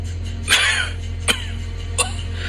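A man coughs three times in quick succession, close and sharp, over a steady low electrical hum.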